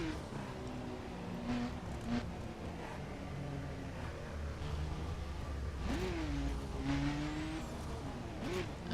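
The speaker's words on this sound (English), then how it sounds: "this is what a Mini Cooper sounds like when it's perf spec" Mini Cooper at performance spec in The Crew racing game, engine note revving and shifting with rising pitch sweeps, tire noise mixed in, steady and fairly loud throughout with no talking.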